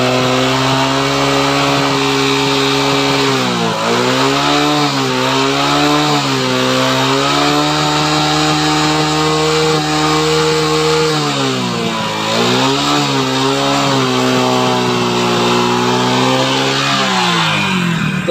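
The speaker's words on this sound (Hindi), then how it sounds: "तो चाबी को हम ऑन करते हैं। अभी दोस्तों हम हल्का ही एक्सीलेटर दे रहे हैं" A Hero Super Splendor motorcycle with a smoky engine idles and revs under light throttle, loud and close, with repeated rising and falling swells of engine pitch and no talking.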